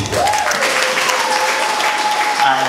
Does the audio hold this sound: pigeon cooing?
no